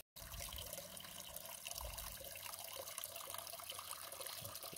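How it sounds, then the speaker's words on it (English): Mountain spring water runs continuously from a trailside faucet on the Appalachian Trail, a steady close splashing stream that starts abruptly and continues alone. "There's our faucet for our water."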